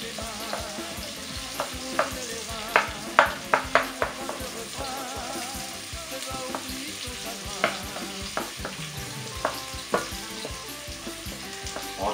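Onions frying in a pan for a rice zembrocal with potatoes, a steady sizzle broken by repeated scraping stirs of the utensil against the pan, close and continuous with no talk.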